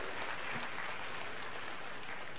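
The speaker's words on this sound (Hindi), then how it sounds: "दोनों हाथ उठाकर एक बार जोरदार तालियों से माननीय मुख्यमंत्री जी का स्वागत करें" A large crowd at a Hoshangabad rally with Chief Minister Shivraj Singh Chouhan claps loudly in welcome, a thick continuous roar of applause heard from within the gathering.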